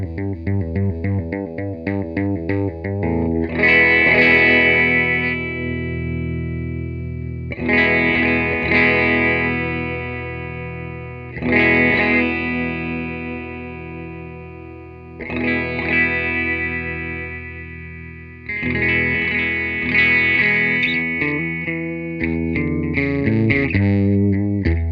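An electric guitar played through a 1973 Peavey Classic 212 amplifier with the mids scooped out rings in loud distorted chords and phrases, with pauses between them and a modulated, chorus-like shimmer.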